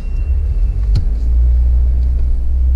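A car driving along a dirt track in Wombat State Park, a steady close low engine rumble with a brief knock or bump near the start, no talk.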